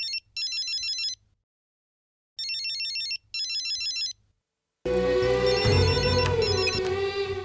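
A phone ringtone signals an incoming call in short, repeated electronic bursts separated by silent gaps, then gives way to a louder, denser wash of sound.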